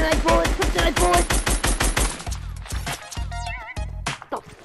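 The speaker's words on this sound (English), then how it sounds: "Kryptonite bullet!" Rapid gunfire rattles in a fast, loud machine-gun burst, followed by several heavier, spaced shots with resonant tails.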